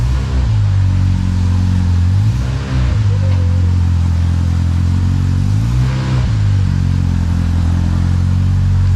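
A car rolls forward while its steering wheel is rocked back and forth, giving a steady, loud engine drone with periodic dips and groaning shifts as the wheel turns, close up and without talk.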